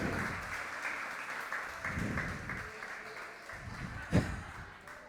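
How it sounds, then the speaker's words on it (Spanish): A church congregation applauds during a Spanish-language service, giving steady, moderately soft clapping that holds at an even level throughout with no voices over it. "Denle un aplauso."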